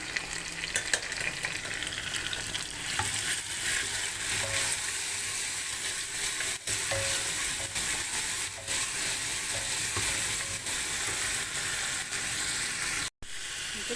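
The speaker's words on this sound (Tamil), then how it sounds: "வெங்காயம், நல்லா வெங்காயம் வதங்கிடுச்சு. தக்காளி போட்டோம்." Onions and tomatoes fry in a pan with a constant, close sizzle, with occasional light scrapes and clicks from stirring.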